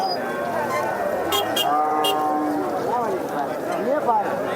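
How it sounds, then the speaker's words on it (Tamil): Jersey cattle standing along a roadside cattle market, with low moos rising and falling among steady crowd noise and nearby voices talking throughout. "பக்கம் ரோடு ஓரம் இருக்கிறதெல்லாம் ஃபுல்லாக ஜெர்சி மாடுங்கள்லாம்"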